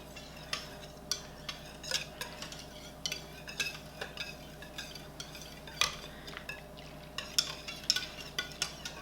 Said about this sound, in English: I'm gonna take my whisk again and just mix it up really well